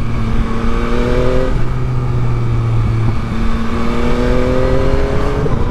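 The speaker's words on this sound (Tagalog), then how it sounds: "Masarap magtakbo ang MT-09." A Yamaha MT-09 naked motorcycle with quick shifter accelerating, its engine droning loud and close with rising pitch sweeps and a gear change partway through, steady and dense throughout.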